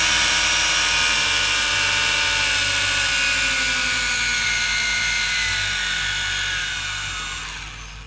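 A ParkZone DH98 Mosquito RC plane with twin three-blade propellers whines loudly and steadily up close, its pitch sliding slightly as the motors spool down toward the end.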